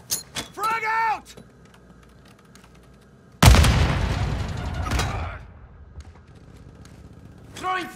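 Frag grenade explosion in Call of Duty Modern Warfare 2: a single loud, sudden blast that rumbles and decays over about two seconds, with voices calling out before and after.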